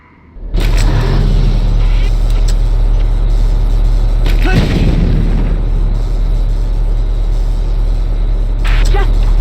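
Cannon fire blasting an enemy turret in the video game Valkyria Chronicles, a loud booming explosion followed by a long rumbling roar, then a second blast partway through and another burst near the end.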